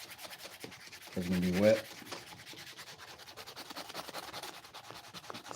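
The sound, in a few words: sanding with sandpaper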